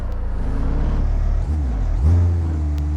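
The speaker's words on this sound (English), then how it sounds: "We got the van with nitrous there. Hear them priming it up." A van fitted with nitrous revs and primes its engine in BeamNG, a loud steady drone that dips briefly and then rises into a higher, stronger roar.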